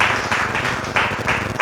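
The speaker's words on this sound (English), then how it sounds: "I think we have to applaud her again" Audience applause at the Cardano Summit 2023 community event in Kumasi, welcoming a guest speaker: a steady wash of clapping with rhythmic swells, fairly close and moderately loud, no speech over it.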